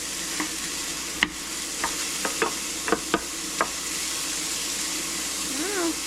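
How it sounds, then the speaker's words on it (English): Vegetables sautéing in oil for chicken gnocchi soup give a continuous loud sizzle, punctuated by repeated sharp scrapes and knocks of a stirring spoon against the pot. A brief rising meow-like squeak comes near the end. "We're going to saute this for 2 to 3 minutes so everything's getting kind of cooked a little bit, a little translucent"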